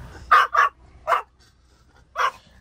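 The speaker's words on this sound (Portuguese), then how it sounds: "ele fica latindo" A dog barks four times at close range, with a quick double bark followed by two single barks spaced apart, sharp and fairly loud against a quiet background.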